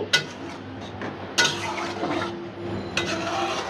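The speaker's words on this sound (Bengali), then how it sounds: "অল্প একটু জল দেবো বেশি না" A little water is poured into a potato and bean curry cooking in a pot, giving a brief splash and sizzle, with clinks of utensils against the pot close by.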